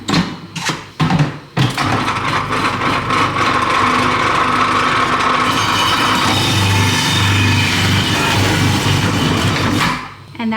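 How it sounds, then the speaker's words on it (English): A kitchen food processor grates carrots through its fine grating blade, a loud, steady whirring motor roar that runs continuously for most of the stretch after a few short starts. "I'm going to put the grating blade back on, but I'm going to do the fine side this time for some carrots"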